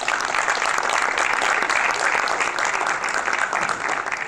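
Loud, dense applause from an audience at a school board public session rings out steadily for athletes and their coaches, a sustained wash of clapping with no pauses.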